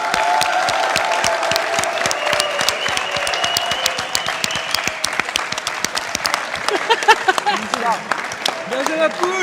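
Sustained crowd applause celebrating the winning team of a Gran Turismo Sport esports tournament, dense steady clapping that continues throughout, with voices talking over it toward the end.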